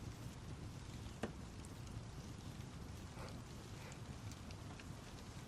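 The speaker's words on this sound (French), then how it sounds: "Profitez juste de la pluie qui tape contre la fenêtre, du bruit de la cheminée" Soft rain patters against a window beside a crackling fireplace, a faint steady hiss of drops with scattered small pops and ticks, quiet and even throughout with no voices.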